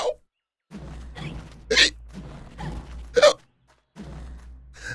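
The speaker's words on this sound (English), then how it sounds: "I don't know if she needs to hiccup every time" Alice from Alice: Madness Returns hiccups in short, sharp bursts, a few of them spread across a few seconds over a low background hum.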